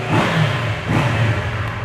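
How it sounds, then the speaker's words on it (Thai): Close-up revving of a 2017 Kawasaki Versys 650 engine, two quick throttle blips rising and falling in a steady mid-pitched drone, without any talk. "รอบเครื่องยนต์นิ่งครับ อัตราเร่งดีครับ ไม่มีสะดุดเลย"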